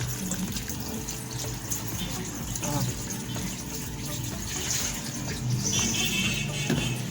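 Soup is poured over stuffed mahshi in a cooking pot that already holds two spoonfuls of tomato sauce, making a continuous close splashing, gushing flow that runs the whole time.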